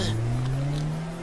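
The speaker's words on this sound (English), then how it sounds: "Gets hit by a car." Car engine sound effect in a comedy skit, a steady low droning hum that rises slightly in pitch as if accelerating, loud and continuous with no speech.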